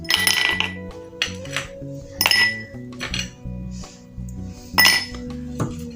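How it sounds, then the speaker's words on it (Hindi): Ice cubes drop into two drinking glasses while cucumber juice is prepared, giving several sharp, close glassy clinks spaced a second or two apart over a faint steady background tone. "अब हम इसके अंदर ऐड करेंगे आइस क्यूब्स।"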